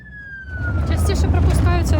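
An ambulance siren wails up close as the crew switches on the flashing light and siren for a call near the border, starting with a rising tone that builds into loud, repeated oscillating cycles.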